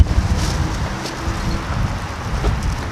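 Wind gusting outdoors into a shotgun microphone during window cleaning with a water-fed pole, producing a rough, buffeting low rumble with brief rustling bursts, close and continuous, no speech.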